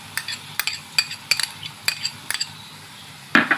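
A spoon stirs a mixture of soy sauce, tomato sauce and vinegar in a bowl, with a dozen or so clear clinks and scrapes against the dish at an uneven pace, close by, and a louder knock near the end.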